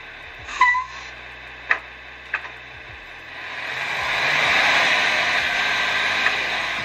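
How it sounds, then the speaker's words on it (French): A few sharp mechanical clicks, then a simulated engine note swells and rises as if shifting gear, a Tamiya MFC-03 sound module in an RC truck producing a synthetic motor sound. "Vous entendez votre changement de boîte."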